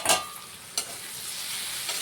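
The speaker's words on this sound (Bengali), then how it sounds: "আলুটা আমাদের কতটা ভাজা হয়েছে" Potato pieces frying in a pan during preparation of a Bhola fish curry with eggplant, a steady close sizzle with a couple of brief clatters of a utensil against the pan.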